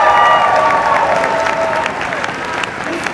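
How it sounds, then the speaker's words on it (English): Applause for an organizer at a student hacking club event, a steady wash of clapping held under faint crowd murmur and some talk throughout. "can we please get a round of applause for Selena here?"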